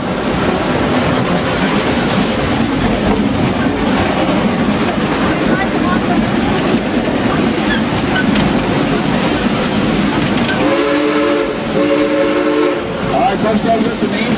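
A tourist train rumbles along its rails in the Ozarks, a loud, steady rolling clatter, with a few horn blasts sounding near the end.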